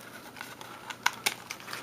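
Scissors snipping into a sealed trading card pack, a few quick crisp cuts and crinkles standing out sharply near the middle over a quiet room, with no talking.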